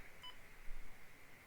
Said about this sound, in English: we got a beep. We got a beep out of the terminal board